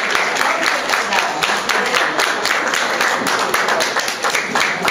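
Audience applause at a Żywiec Zapusty carnival event, clapping for children: dense, steady clapping from a crowd, fairly loud and continuous throughout with no break.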